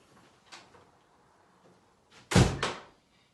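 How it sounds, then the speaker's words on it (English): A door being opened and closed at a kindergarten, a soft click of the latch followed moments later by a loud thudding shut, close by with quiet room tone around. "it's opening and closing a door"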